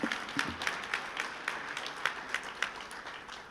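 Scattered audience clapping for the Minister at the Zimbabwe National Labour and Employment Summit 2026, soft and somewhat distant, with a handful of distinct claps standing out over a light patter of hands.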